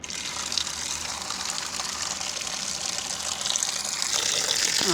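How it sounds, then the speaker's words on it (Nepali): Water runs and gushes steadily into a container while lemon pickle (kagati ko nimki) is being prepared, a continuous close filling sound that grows slightly louder toward the end, with no talking. "अब यसमा फेरि हामी पानी भर्छौँ।"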